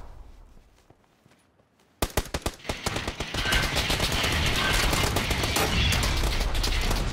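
Rapid bursts of automatic gunfire in a PUBG squad match, a few sharp shots at first, then dense continuous firing that stays loud to the end.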